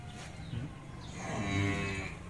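Cattle at a cattle farm moo in a long, low, drawn-out call, loud and near, over a steady background murmur of the herd.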